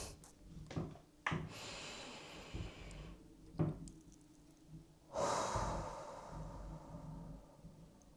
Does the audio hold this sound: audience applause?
no